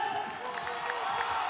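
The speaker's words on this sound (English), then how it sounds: "Tremendous applause from right around this arena." An arena crowd at a ONE Championship fight keeps up a brief, steady wash of applause and cheering, with a commentator's voice talking over it.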